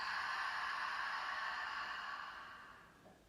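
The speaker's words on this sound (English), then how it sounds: "Open your mouth, exhale, let it go." A long, steady open-mouthed exhale during a yoga breathing exercise, a breathy rush of air heard close and clear that slowly fades away over about three seconds.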